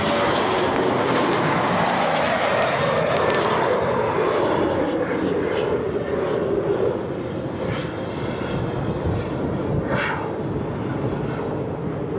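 A loud, roaring jet airliner rushes past close by at Fuerteventura Airport, banking right, its broad noise slowly fading and shifting in pitch over several seconds, mixed with wind.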